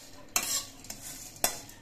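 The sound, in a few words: frying fish heads coated in rice flour being stirred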